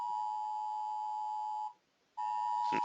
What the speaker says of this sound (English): my phone is sounding an alarm for some reason.